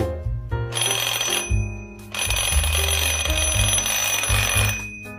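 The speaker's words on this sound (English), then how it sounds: "Look, when the alarm goes off," A spare alarm clock rings loudly and continuously from close up, a bright, harsh electronic ringing that stops briefly and then starts again, with no talking over it.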